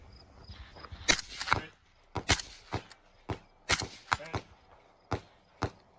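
Gunshots ring out at a two-gun shooting match, roughly a dozen sharp cracks in irregular bursts and single shots, loud and close with short echoing tails.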